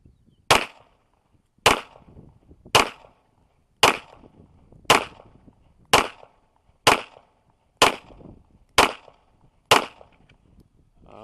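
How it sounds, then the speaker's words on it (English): A Polymer80 G34 pistol fires ten rounds at a target 10 yards away, ten sharp loud reports spaced evenly about a second apart, each followed by a short decaying echo. "I'm going to put some more rounds through it and see if I've gotten her smoothed out"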